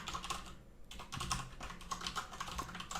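Typing on a computer keyboard while coding a JavaScript Tetris game, a quick irregular patter of close, crisp key clicks with brief pauses.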